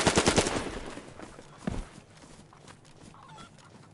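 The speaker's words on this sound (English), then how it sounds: "Chickens are all freaking out." In the DayZ survival game, panicked chickens cluck and squawk, starting with a quick loud burst of rapid clucks that fades into scattered, fainter calls, with one sharp flap partway through.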